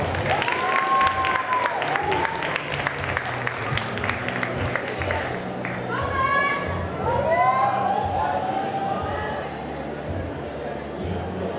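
Applause and cheering from a crowd at a cosplay contest at a Japan convention in Paris, steady clapping throughout with whoops and voices over it, fading slightly toward the end.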